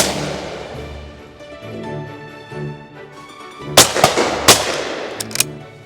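Several sharp blasts from a William Powell Perdix game shotgun fired outdoors crack out in quick succession, loud and close, after a stretch of background noise.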